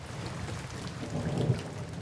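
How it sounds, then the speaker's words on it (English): Rain starts falling outdoors at a building site, a steady soft hiss of drops with low rumble underneath, moderately loud and without voices. "the rain has started"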